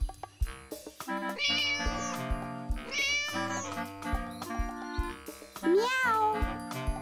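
Bright, sing-song meows of a cartoon cat from a children's animal vocabulary show, set over bouncy music with chimes and a steady beat, several meows rising and falling in pitch.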